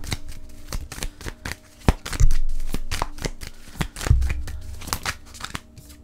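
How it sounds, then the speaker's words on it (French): Tarot cards being shuffled and dropped in small bundles: a steady series of crisp riffling flicks and soft slaps, close and moderately quiet, with a couple of heavier thumps as packets land. "les cartes chutent en petit paquet"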